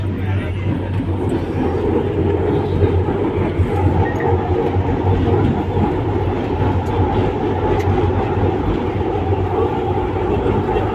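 Metro train in Hyderabad, India, running steadily between stations, with a continuous low rumble and hum from the carriage that holds level the whole time, and faint voices in the background.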